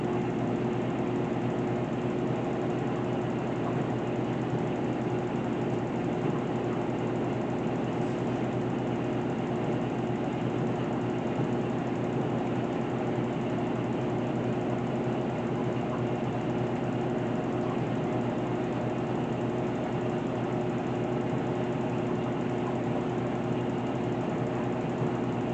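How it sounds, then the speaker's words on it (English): A GE washing machine on its normal cycle spins steadily, a continuous loud mechanical hum and whir holding without break for the whole stretch, with no talking. "And I think it will spin for a long time,"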